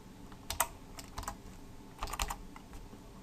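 Close, quiet typing on a computer keyboard, a few short bursts of light key clicks with brief pauses, alone without talk.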